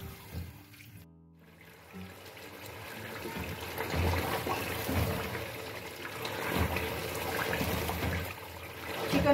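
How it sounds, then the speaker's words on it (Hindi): Chicken with red chilli frying and being stirred in a pan, a soft, steady sizzle with faint scraping and clattering, close and fairly quiet, no voices. "अच्छी तरह मिक्स करके 5-6 मिनट तक इसी तरह भूनेंगे।"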